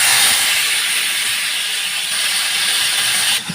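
Fish frying in a hot pan on a stove, a steady loud hiss and sizzle that runs throughout, close and alone with no talking.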